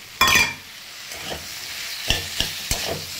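Chopped tomatoes go into a hot pan of frying spices and potatoes for a Bengali home-cooked dish. A loud splash of sizzle comes first, then quieter frying, and several distinct scraping stirs near the end.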